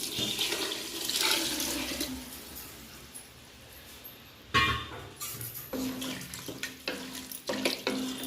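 Water pours and splashes into a cooking pot for mushroom biryani with a running, hissing flow, followed by a few clinks and knocks of metal nearby.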